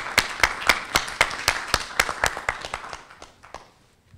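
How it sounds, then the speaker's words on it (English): An audience at a human rights seminar claps to welcome a keynote speaker: a modest round of crisp, distinct claps from a smallish crowd that thins out and fades over about four seconds. "Let's welcome him with a warm applause."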